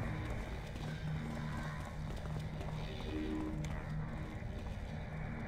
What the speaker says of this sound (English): What was all this hurrying footsteps I could hear?